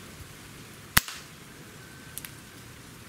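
A Hatsan H-1911 CO2 .177 pellet pistol fires a single sharp, close crack, followed by faint small ticks a moment later against a quiet background.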